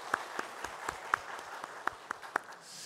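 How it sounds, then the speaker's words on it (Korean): A church congregation claps in worship, a scattering of distinct, fairly faint hand claps at an uneven pace, with no voices over them. "하나님 앞에 영광의 박수 올려드리겠습니다"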